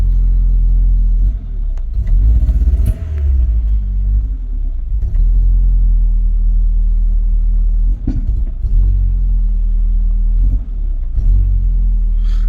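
A Rover 820 car engine idles steadily up close, a deep continuous rumble with a few brief surges and dips in pitch as the revs shift.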